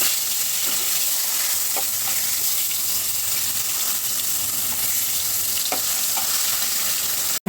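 Fish sizzles loudly in hot oil in a home kitchen, giving a constant, dense crackle close to the mic with a few faint clicks and no talking.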